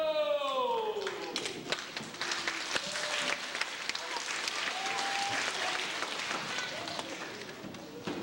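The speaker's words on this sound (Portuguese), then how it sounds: "Para o aplauso de vocês, vamos trazer Pinóquio!" Audience applause at a 1996 Pinocchio puppet theatre show at a municipal ball, dense steady clapping filling the whole stretch after a descending musical flourish, with scattered voices underneath.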